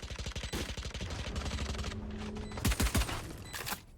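SMG fire in a Valorant tournament match comes as rapid bursts of close, punchy shots, first a quick rattling string and then a few heavier cracks near the end, mixed over game sound with no clear speech.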